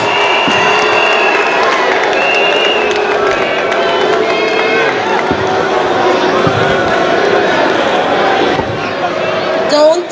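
A crowd cheers, shouts and whoops at a university debate semi-final, a loud, lively hall din with excited voices throughout.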